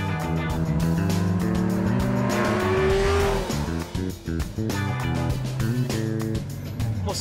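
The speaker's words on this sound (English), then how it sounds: "That Ferrari V8 is awesome, isn't it? Go on, son, get the slipper down." A Ferrari V8 revs hard under acceleration, its loud, rising engine note climbing through the gears with brief shift breaks, tyres chirping near the middle before the revs drop and build again.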